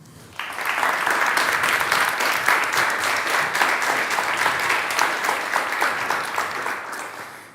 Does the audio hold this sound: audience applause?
yes